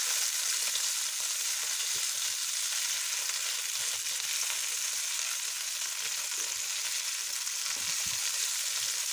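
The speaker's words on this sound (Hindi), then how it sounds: "तो आलू को भी हम इस तरह से इसको हल्का सा गोल्डन होने तक इसे भी भून लेंगे।" Potatoes fry in a pan until golden, giving a continuous, even hiss of sizzling oil with faint crackles throughout and no voices.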